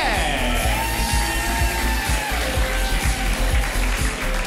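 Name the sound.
comedy audience cheering and making noise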